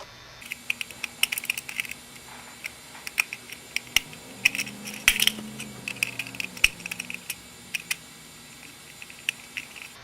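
Screws are loosened on a fuse holder cover for a solar battery bank, giving scattered small metallic clicks and ticks at close range against a quiet background with a faint low hum.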